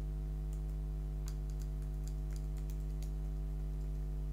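Light, scattered keystrokes on a computer keyboard while coding a JavaScript form, faint and irregular over a steady electrical hum.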